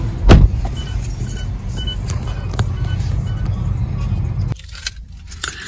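A woman steps out of a car: a sharp thump from the door near the start, then a low idling rumble with faint jingling, and the sound drops off abruptly near the end as the door closes.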